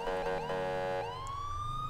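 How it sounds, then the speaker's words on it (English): Wailing police sirens in the video game GTA 5 rise and fall in quick yelps, then settle into a sustained tone, loud and close with no one speaking. "These are new sirens I put in."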